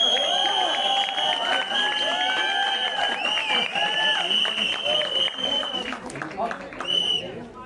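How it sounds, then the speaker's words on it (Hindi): Audience at the Mirzapur movie trailer launch event in a PVR mall cinema, cheering, clapping and whistling steadily throughout while someone speaks over the crowd. "अरे चलिए चलिए तालियां होनी चाहिए यार।"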